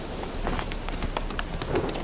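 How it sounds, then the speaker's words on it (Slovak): Steady rain pours down in The Witcher 3: Wild Hunt (Hearts of Stone), a dense, constant patter of drops on surfaces with scattered sharper splashes throughout, no voices. "Nie, už začína pršať."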